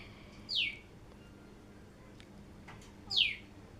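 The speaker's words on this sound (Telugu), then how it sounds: "పిట్ట సౌండ్ భలే చేస్తుంది అందుకే సైలెంట్గా ఉంటున్నా అనమాట దాని వాయిస్ ఇందామనేసి" A small bird gives two quick, bright descending chirps about two and a half seconds apart, clear but not close, over a quiet kitchen background while drumstick and chana dal curry is cooking.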